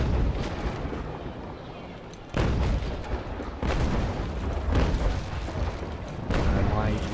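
Heavy ship cannons boom in a sea battle in Naval Action, several loud, spaced blasts over a rumbling background, with someone talking between them.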